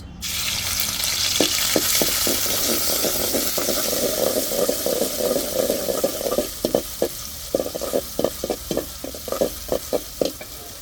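Chopped onion sizzles steadily in hot oil in a pan, a dense continuous frying hiss punctuated by frequent sharp clicks and taps of a spatula stirring, close and fairly loud throughout.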